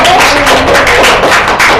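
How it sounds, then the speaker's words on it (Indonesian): A classroom bursts into brief, loud applause for a student group, a dense patter of many hands clapping close by. "beri tepuk tangan untuk kelompok 1"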